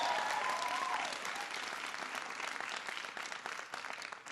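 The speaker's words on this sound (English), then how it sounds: "Give him a big round of applause." A crowd at a Boston speech by President Obama claps steadily for Governor Deval Patrick, a broad, moderately distant roar of applause that begins over a brief voice and carries on evenly, thinning slightly toward the end.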